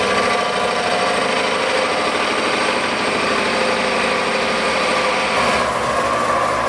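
A wood lathe runs with a loud, steady motor drone and a constant whirring hum while turning cork and resin hot-glued to a faceplate for a bracelet.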